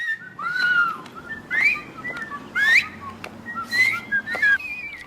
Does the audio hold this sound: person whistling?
yes